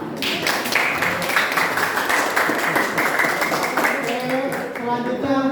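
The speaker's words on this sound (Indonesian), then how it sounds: "Tepuk tangan." A classroom of students claps together in a dense, sustained round of applause lasting several seconds, fairly loud and close.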